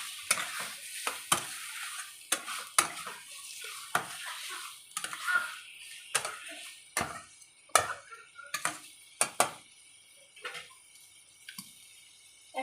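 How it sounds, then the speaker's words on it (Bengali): Boiled potatoes sautéed with spices in a pan produce quiet, intermittent scraping and clicking stirs over a soft background sizzle, with sharp spatula taps recurring every second or so. "আর আলুর সাথে মশলাটা আবার একটু কষিয়ে নেবো ভালো করে"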